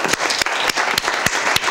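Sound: audience applause

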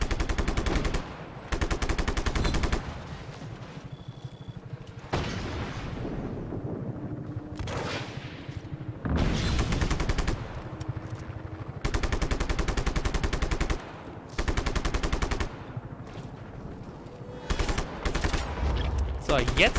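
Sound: gunfire in the video game Just Cause 3

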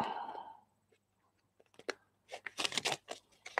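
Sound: shuffling a deck of playing cards

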